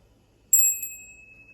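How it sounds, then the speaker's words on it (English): A small hand bell struck once to clear energy before a tarot card reading, giving a bright single ding that rings on and decays slowly in an otherwise quiet room. "If the bell hurts y'all ears, I'm sorry."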